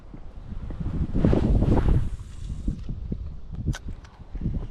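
Strong spring wind buffets the microphone at a lake during fishing, a rough, gusty roar that swells loudest in the first seconds and then keeps rumbling unevenly, with faint rustling and a few small knocks.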